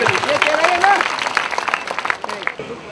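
A crowd at the CLC Vijyotsav celebration breaks into applause honoring Dr. GL Rathi, a loud round of clapping that fades unevenly toward the end, with a voice speaking over it.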